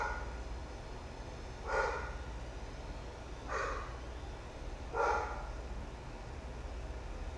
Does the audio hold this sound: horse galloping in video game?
no